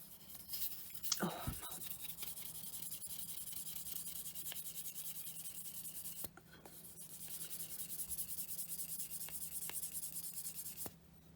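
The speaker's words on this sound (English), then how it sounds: "some of the ends on these needed a bit of a sand off" Hand sanding the ends of small craft scarf rings produces a steady, close rasp that runs almost without break, with one brief pause partway through, and no talk.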